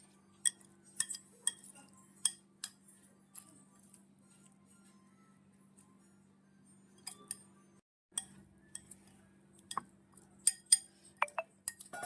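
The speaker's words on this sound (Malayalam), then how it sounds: "സലാഡൊന്ന് മിക്സ് ചെയ്തെടുക്കാം." A spoon mixes a mango salad of onion, green chilli, salt and chilli powder in a bowl, giving sparse clinks and taps in irregular bursts against a faint steady hum, close and quiet.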